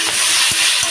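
Biryani ingredients, including large chunks of chicken, being stirred in a hot pan, giving a steady close sizzle with a few soft scraping strokes over a short moment and no talking.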